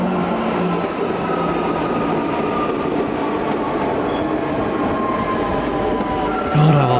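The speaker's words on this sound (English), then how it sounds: "the sounds of the trains pulling in, leaving, and just bypassing the station altogether" Trains rumble and clatter through a Brisbane railway station, with metallic wheel squeals ringing over the steady roar of passing rail cars.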